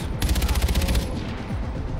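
Rapid automatic gunfire from Far Cry 4 sounds as a loud burst of fast, evenly spaced shots for about a second, then fades into quieter combat sounds and scattered reports.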